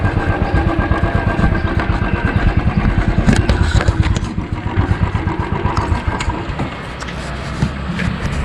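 A motorcycle engine idles close by with a steady rapid putter, loud and continuous throughout, with a faint murmur of other sound in the background.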